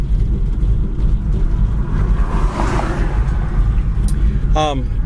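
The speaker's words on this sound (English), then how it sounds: "We got a fire truck's going by." A fire truck passes by a car on the road, bringing a low rumble of traffic and engine noise. Near the end a short, loud, wavering siren or horn blast rings out, and voices can be heard.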